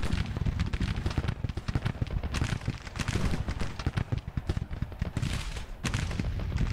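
Dense battlefield gunfire and artillery from Grand Tactician: The Civil War, a continuous rolling fusillade of musket volleys and cannon booms, loud and layered with no pauses.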